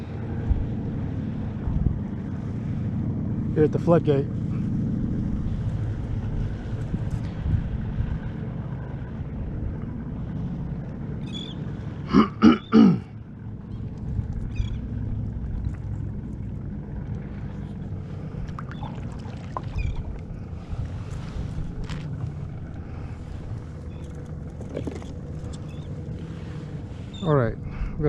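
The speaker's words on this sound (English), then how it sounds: "A lot of boat traffic out today" Motorboats passing on the water near a floodgate in Texas City, a low steady engine rumble with wind buffeting the microphone and lapping water, while someone talks briefly.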